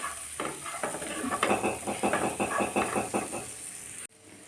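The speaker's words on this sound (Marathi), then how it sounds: "आणि छान आपल्याला परतून घ्यायची आहे मिरची व्यवस्थित दोन ते तीन मिनिट" Green chillies sautéed in a pan with a splash of water for a curd chilli dish, stirred in a quick rhythmic series of scraping strokes over a steady sizzle, close and clear, then cut short.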